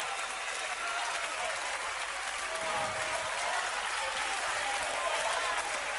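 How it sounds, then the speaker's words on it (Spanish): A large concert crowd applauds the band at a show at Vorterix, a steady wash of clapping and cheering that holds evenly throughout. "Les pido un gran aplauso para la banda también"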